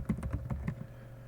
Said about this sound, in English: I'm going to come in here and I'm going to Google, and I'm going to type in here